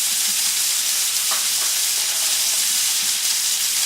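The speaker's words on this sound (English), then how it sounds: "Grill the first side until nicely browned, and then flip the chops and grill for an additional 5 minutes on the second side" Chops sizzle on a hot grill in a steady, close, unbroken hiss and crackle, with no voices over it.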